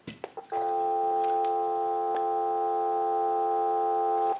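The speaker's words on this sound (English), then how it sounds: "So we're going to go ahead and give you some dial tone." A single-slot payphone converted during repair gives a few handset clicks, then a steady, unbroken dial tone that holds for several seconds before cutting off.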